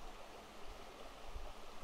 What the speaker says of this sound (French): venir auprès d'un ruisseau comme celui-ci, d'une rivière, de se poser avec les pierres, les rochers